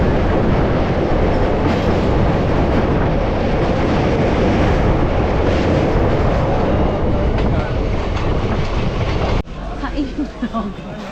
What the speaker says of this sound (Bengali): আর এই হচ্ছে আমাদের ট্রেন